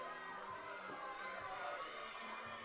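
Crowd noise fills a powerlifting meet at the USA Powerlifting Massachusetts State Championships, with a steady, loud wash of cheering and shouting. It stays dense and continuous for the whole moment, with no single voice standing out.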